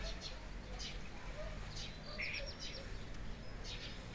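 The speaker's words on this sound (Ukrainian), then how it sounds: "Шпак там плигає." A starling hops about a garden fence as faint, scattered high chirps come over a steady low outdoor rumble, with a brief brighter call near the middle.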